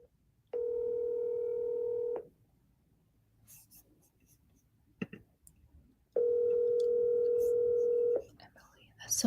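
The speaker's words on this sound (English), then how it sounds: "Call again, because I just realized I only dialed once." Two long, steady telephone tones, each about two seconds, sound alone and clear with a quiet gap between them, followed by a few faint clicks and rustles.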